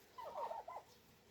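A bronze turkey gobbles once in a quick, rattling burst, fairly faint and alone against a quiet farmyard background.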